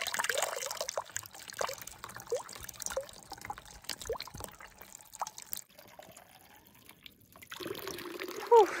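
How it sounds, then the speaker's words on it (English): Spring water runs out of a pipe on a trail, with a continuous splashing trickle and scattered drips, fairly close and moderately loud, easing off briefly before the flow picks up again. "the water coming out of the pipe looks pretty good."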